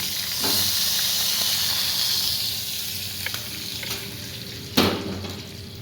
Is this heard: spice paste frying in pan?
yes